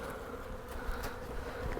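Honeybees buzz steadily inside a hive after a hard freeze, a close, continuous low hum with no voices over it.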